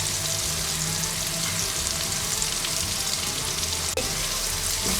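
Crushed red chillies and turmeric roast in oil over a low flame for a carrot and green chilli pickle, giving a steady, close sizzle that runs unbroken throughout with no voices.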